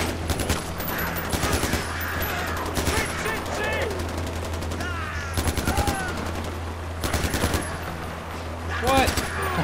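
Rapid bursts of automatic gunfire and scattered gunshots from the video game Far Cry 4, repeating in clusters over a steady low hum, with people talking and exclaiming between and over the shots.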